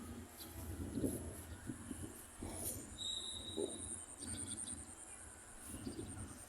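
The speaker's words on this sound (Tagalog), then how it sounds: "Marami ng ibon." Birds call and coo repeatedly outdoors over a baseball field with long grass, including dove-like coos, over a steady background hum, with no talking.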